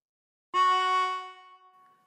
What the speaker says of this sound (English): Breathe in through 2 and bend the note so that it sounds like this.